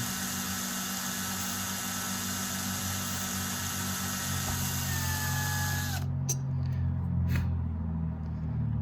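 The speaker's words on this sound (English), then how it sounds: "I'm just going to drill them real slow." A power drill slowly drills mounting holes for cab lights on a Ford F-350 truck, whining steadily and close for several seconds, its pitch dropping as it bites, then stops, leaving a few light clicks and handling noises.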